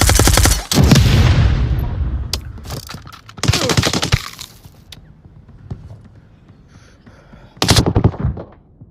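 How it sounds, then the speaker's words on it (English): Shotgun blasts in the VR shooter Onward, with loud booming shots near the start, around three and a half seconds and near the end, each decaying into quieter rumbling gaps between them. "I want to get you with this fucking shotgun."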